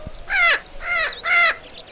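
A crow caws three times in an even rhythm, each harsh, raspy call about half a second long, loud and fairly close, over quiet outdoor background.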